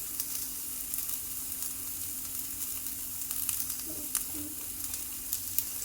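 Turmeric (haldi) hits a hot pan for a vegetable dalia one-pot meal, a soft, continuous sizzle with faint crackles, fairly quiet and free of talk.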